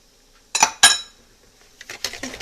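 A utensil clinking against a bowl while mixing eggs and sugar, two sharp close clanks followed by a few lighter taps and scrapes in an otherwise quiet kitchen.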